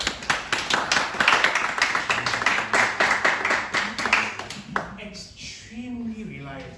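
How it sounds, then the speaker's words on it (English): An audience at a leaders' retreat session claps in a quick, even rhythm for about five seconds, loud and close. A voice begins talking as the clapping fades. "Yes, it deserves a clap."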